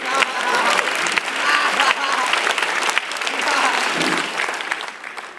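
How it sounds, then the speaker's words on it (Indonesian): Steady audience applause at an Indonesian stand-up comedy show, dense clapping holding fairly loud for about five seconds with crowd murmur underneath, then tapering slightly at the end. "Tepuk tangan buat buaya."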